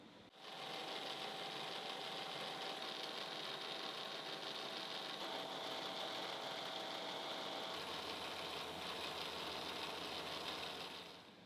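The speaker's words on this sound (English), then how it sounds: "Then I'll also bring in a 1/4 inch end mill to cut the through slot in the bottom." A 1/4 inch end mill cuts a through slot in the bottom of a machined bar part, a steady loud whining machine drone with a bright tonal hum that holds continuously for several seconds.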